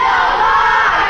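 A crowd cheering for Mark roars in a loud, sustained wash of voices, close and continuous for the whole moment.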